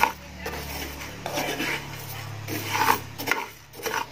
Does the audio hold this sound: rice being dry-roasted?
yes